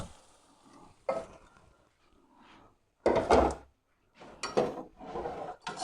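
Vermicelli being stirred into a hot pot for sweet milk sewaiyan comes through as a few separate bursts of scraping and rustling, with quiet gaps between strokes.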